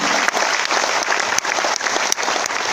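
An audience at an RCM business seminar in Bhilwara, Rajasthan, applauds loudly and steadily. The dense clapping fills the room for the whole stretch, with no voices over it.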